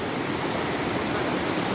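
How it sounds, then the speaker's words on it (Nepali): The Melamchi river in Nepal rushes past after a flood, a steady, dense broadband roar of fast water close by, continuous and unbroken, with no voices. "खोला सुसाइरहेको छ"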